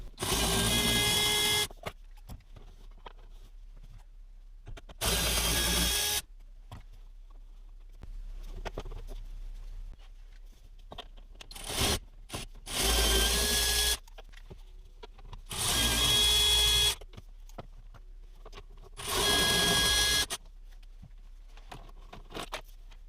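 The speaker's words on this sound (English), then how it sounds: "the rest of the disassembly is basically removing a bunch of 8mm hidden bolts throughout here" Hidden 8mm bolts being worked loose with a ratchet on a long extension inside an Audi S3 8V dashboard: five loud bursts of rapid ratcheting clicks, each lasting one to two seconds, separated by quiet pauses with faint handling noise, close up and with no talking.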